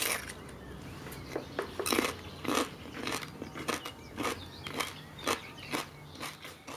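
Raw food is bitten and chewed with a loud close crunch, about a dozen sharp crisp bites and chews in an uneven rhythm, with no talking.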